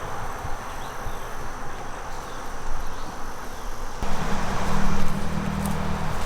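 Honey bees buzzing around an opened backyard hive during an inspection, a steady dense hum close by that swells louder toward the end, with no talking.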